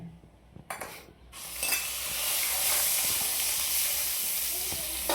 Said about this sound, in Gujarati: આ જો વઘાર થાય હવે